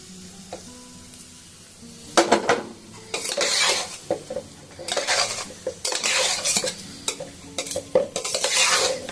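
Fried rice and fried vegetables in ghee stirred in a pot, with a spoon scraping and clanking against the metal in bursts over a soft steady sizzle, close and fairly loud.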